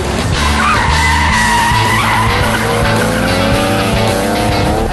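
A car doing handbrake turns and donuts fills the scene with loud, continuous tire screeching over a roaring engine, close and sustained for the whole stretch.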